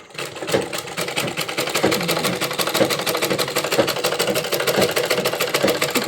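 A sewing machine stitches cloth in a fast, steady mechanical chatter, loud and close, running continuously with a regular rattling rhythm and no talk over it.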